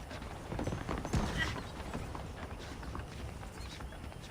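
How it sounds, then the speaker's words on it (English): Steady hoof clip-clops of a horse moving at a walk in Red Dead Redemption, mixed into busy game ambience with a brief louder thump near the middle. "The horses are saddled up over here."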